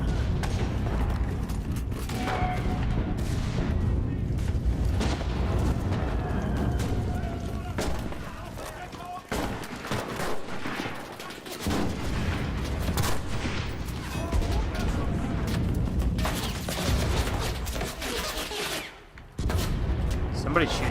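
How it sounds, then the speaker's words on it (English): Continuous gunfire and booming combat sounds from the video game GTA Online, with rapid volleys and thuds throughout, heard under steady talk from a player. "Somebody's shooting something at me there."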